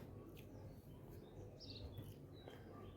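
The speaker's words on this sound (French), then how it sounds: "Là j'entends le chant des moineaux." Sparrows sing faintly in Marseille, with sparse, high chirps scattered over a constant low background hum of the city.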